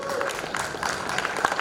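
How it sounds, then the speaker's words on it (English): Brief burst of audience clapping at an Ugadi festival event honoring a sponsor, dense and continuous applause from a crowd, heard close with a busy room behind it. "Huge round of applause to Venkatesh."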